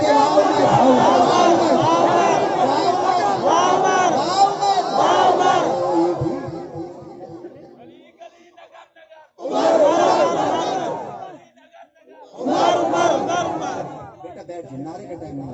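Crowd at a religious gathering in Ali Pur, Pakistan, chanting a short slogan in unison in loud bursts, with a long swelling shout first and two shorter chants after it, separated by quieter gaps.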